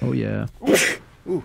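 A single sharp sneeze from a person at a track practice, bursting out between short spoken exclamations and followed by brief talk.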